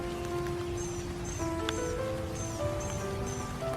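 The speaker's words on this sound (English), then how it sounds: "It's raining now." Steady rain patters over a wooded park trail on a wet morning hike, a dense continuous hiss close around the listener with a few faint bird chirps and tonal sounds layered above it.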